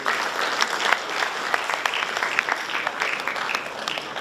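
Audience applause at an inaugural address at a university event, dense sustained clapping from a large crowd, loud and even with no talk over it.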